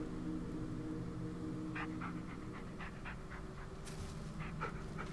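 A dog panting in the Blair Witch horror video game, quick soft rhythmic breaths heard close and fairly faint over a low ambient hum, with no talking.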